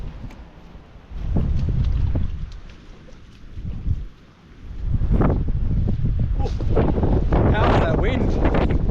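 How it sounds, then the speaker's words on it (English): Strong wind gusts buffeting a microphone in the mountains of Cape Melville, Cape York, heavy rumbling blasts that swell, briefly ease, then surge again with rustling bursts. "It's just got these big wind gusts coming through."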